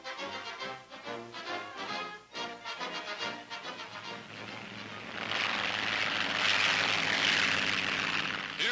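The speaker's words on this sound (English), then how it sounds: "A rope is rigged for the oncoming plane to catch." A World War II–era propeller airplane flies in to snatch a glider's tow rope, its engine drone rising to a loud, close roar that swells and holds steady on an old newsreel-quality recording.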